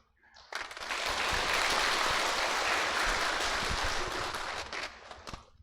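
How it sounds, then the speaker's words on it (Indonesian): Audience applause at a Buddhist talk by a monk swells in after a brief pause, holding as a steady, dense wash of clapping for several seconds before thinning out near the end. "kurang keras lah tepuk tangannya itu"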